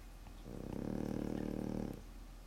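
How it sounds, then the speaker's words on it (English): A dog snoring close by indoors: one long, low, rasping breath that swells for about a second and a half, then fades, alone against a quiet background hum. "if you let the sweet sounds of my dog snoring take you to a wonderful place"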